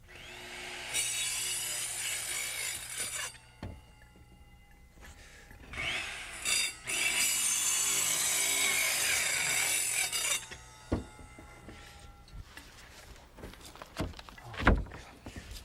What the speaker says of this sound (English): with careful plunge cuts, I cut out by eye between the marks.